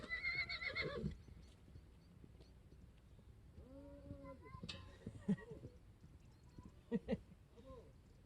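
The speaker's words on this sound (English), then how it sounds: "There's a horse chasing the kid, I think." A horse whinnies loudly and close at the start, chasing a child outdoors during a bicycle trip through Spain, followed by scattered hoof and animal sounds, with faint voices in the background.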